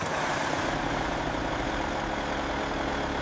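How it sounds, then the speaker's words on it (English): A heavy truck's diesel engine rumbles steadily at idle after starting, a dense, continuous low drone with no break or change in level. "Initiating start sequence. And ignition. Engine's hot."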